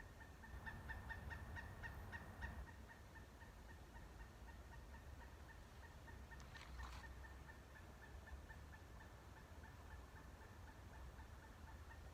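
A turkey gobbles outdoors, a rapid rattling burst of calls early on and a brief second call later, faint and distant over a steady low background rumble; no one speaks.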